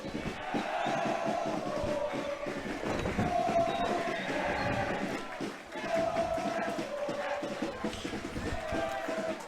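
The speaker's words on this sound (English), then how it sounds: "The crowd now really getting up to their feet there, both Hilton and St. John's" A rugby crowd at the St John's College Easter Rugby Festival, with Hilton and St John's supporters, keeps up a dense, continuous roar of cheering and chanting from start to finish, with rising surges of voices.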